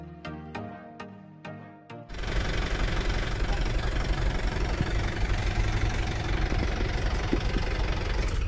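Isuzu Elf truck diesel engine, a 2015 Elf Long, idling loud and steady with a knocking rumble that starts abruptly after a short stretch of music and carries on alone.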